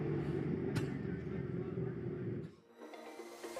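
Drift cars race at Agassiz Speedway, one of them LS-engined, their engines droning loud and steady under commentary before the sound drops away abruptly near the end.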